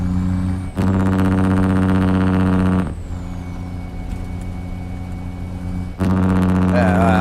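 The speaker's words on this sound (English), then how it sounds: "it looks like my engine's really loud" A Peterbilt 389 truck engine in a trucking simulator drones steadily with a deep harmonic rumble that drops during a gear change and then returns at full strength.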